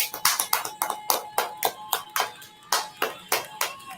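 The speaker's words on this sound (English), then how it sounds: "Gotta clap for the deaf people." Steady rhythmic hand claps on a live radio show, about a dozen sharp, evenly spaced claps over a few seconds, close and loud, with no talking.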